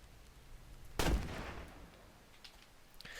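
A single musket shot rings out in a 1600s-era first-person video game, Betrayer: one loud, sharp blast with a rumbling tail that fades into near silence.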